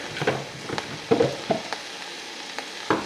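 Mixture of ginger, garlic, jalapeno and cilantro hitting a hot pan of peanut stew with kale, giving short bursts of sizzling and stirring scrapes in a quiet kitchen, no talking.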